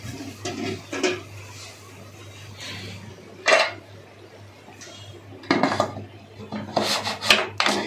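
Metal clatters and scrapes against a cooking pot of biryani as a lid is set on it, with several separate clinks and rasping bursts spread out, the loudest clustered near the end, over a low steady hum.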